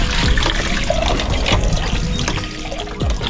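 Water splashing and trickling while washed items get a final rinse, a busy irregular run of close splashes and pours that goes on without a pause, with no speech.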